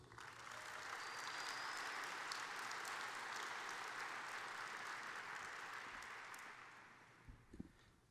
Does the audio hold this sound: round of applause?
yes